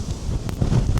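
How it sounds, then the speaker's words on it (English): Strong gusting wind at Stanage Edge buffets the microphone in a dense, roaring rumble, loud and continuous throughout this one-second moment. "Can't believe these gusts. You've got to be gusting at 60, maybe even more. It's mega windy."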